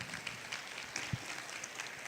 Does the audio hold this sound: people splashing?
no